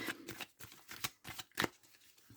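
Tarot cards shuffled by hand for a nine-card spread, a series of soft riffling bursts in an uneven rhythm, close and quiet with no talking.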